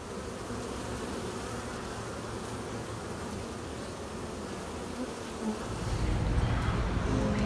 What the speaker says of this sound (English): We do have a box full of bees enjoying their new home.